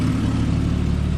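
A 1998 Jeep Cherokee XJ engine idles after running about 40 minutes on a 100+ degree day, a loud, close, steady rumbling hum with no voices over it.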